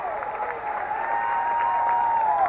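A high school basketball crowd at a 1987 Gate City regional tournament game roars and cheers steadily, a continuous far-off wash of voices with some clapping, bright and sustained throughout.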